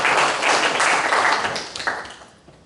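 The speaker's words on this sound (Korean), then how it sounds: "정성호 형제님께 박수 한번 쳐주시죠" An audience claps for Jeong Seong-ho during a church Bible-study quiz. The applause is dense and steady, fading toward the end.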